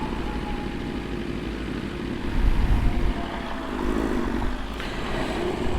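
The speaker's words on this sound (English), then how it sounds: "Just love the way those R1s sound." Yamaha R1 motorcycle engines rumble steadily throughout, a broad low drone that swells louder around the middle before settling back to a constant roar with no talk.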